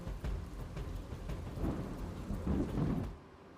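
A heavy rural pre-monsoon storm with strong wind rolls low thunder under a steady wash of pouring rain, the rumble swelling and fading over a few seconds before quieting at the end.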